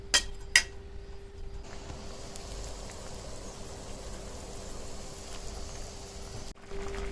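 Softened mangoes go into a wok on a stove with two sharp metallic clinks, followed by a steady, rain-like sizzling hiss that continues throughout.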